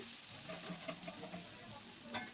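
Potatoes fry softly with salt, turmeric and spices in a pan for a ridge gourd dish. A quiet, even sizzle runs throughout, with a few light stirring taps and one sharper clink near the end.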